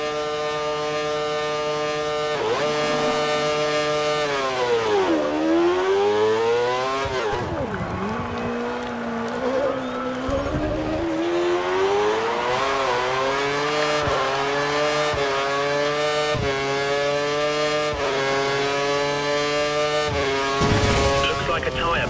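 Formula 1 race car in the video game F1 2013 accelerating toward a hairpin and powering out of the corner, its high-pitched engine wailing and rising through the gears with sharp drops at each shift, loud and close throughout.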